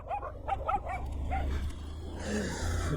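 Dogs in a narrow lane of a city alley barking in a quick run of yips and barks, then quieter whimpering over a low engine rumble from a motorbike.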